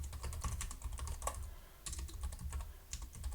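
Rapid clattering keystrokes on a computer keyboard, including shortcut key presses, in short uneven bursts with brief pauses, close and fairly quiet.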